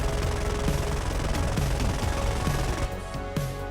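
Aircraft guns fire in War Thunder during a head-on pass: a loud, continuous stream of rapid gunfire over a steady engine drone, with the bursts easing near the end.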